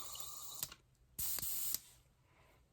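Short bursts of an airbrush spraying gun oil into a spray pot hiss on and off, one brief puff followed by a longer half-second blast, quiet between.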